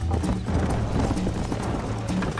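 Horse hooves clip-clop in a steady galloping rhythm in the Red Dead Redemption video game, heard up close over a dense background mix.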